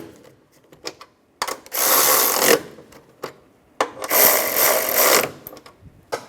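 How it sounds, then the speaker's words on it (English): A ratchet tightens strut bolts on a 2004-2010 BMW X3. Two sustained bursts of close, rasping ratcheting are separated by a pause and scattered clicks. "Now I can tighten these down."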